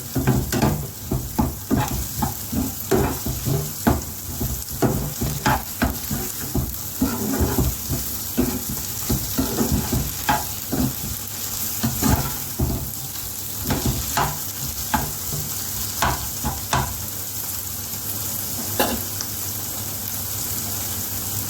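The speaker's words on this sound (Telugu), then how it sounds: "ఒక స్పూన్ అల్లం వేస్తున్నాను అల్లం పేస్ట్ అల్లం వేస్తాను" Ginger paste frying in a hot pan produces a constant sizzling hiss punctuated by frequent rhythmic scraping and tapping of a spatula, close and fairly loud, with no talking.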